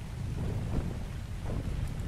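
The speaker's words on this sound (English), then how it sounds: "And of course it's raining" Low rumbling thunder rolls beneath a steady wash of rain in the video game ARK, soft and continuous with no talking.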